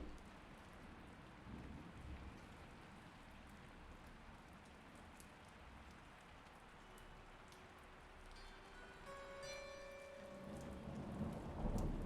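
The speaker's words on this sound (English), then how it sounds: "we can hear the rain" Steady rain hisses and patters in the game Promesa, a dense even wash with low rumbles, while faint tonal notes rise near the end.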